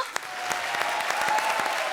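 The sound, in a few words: audience applause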